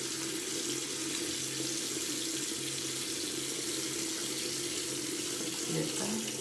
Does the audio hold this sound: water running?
yes